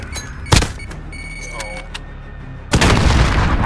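Grenade explosion in Call of Duty: Modern Warfare: a sharp blast hits early, then a second, heavier booming burst rolls in near the end over faint background game sounds.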